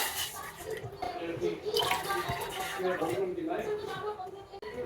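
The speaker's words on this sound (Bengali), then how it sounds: "প্রথমে 2 কাপ জল দিয়ে দিলাম।" Two cups of water poured into a pot to make spiced tea, a steady splashing wash lasting several seconds with a voice talking over it.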